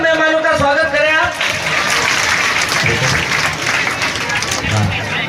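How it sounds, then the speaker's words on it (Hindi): Crowd at a village school building inauguration breaking into loud, sustained applause that welcomes the guests, dense clapping filling the space after a voice. "जोरदार तालियों से एक बार सब मेहमानों का स्वागत करें आप"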